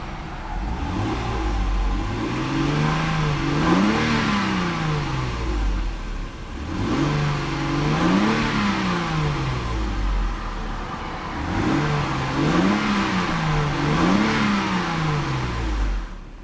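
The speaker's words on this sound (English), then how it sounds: "Good sounding car." A 2002 Lexus IS300 engine revs three times in a row, each rise and fall of the throttle loud and close, with a steady idle between pulls.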